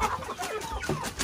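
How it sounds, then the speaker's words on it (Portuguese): Young hens and chickens cluck and chatter close by in a farmyard, a busy overlapping run of short, throaty clucks. "Tem os frangos."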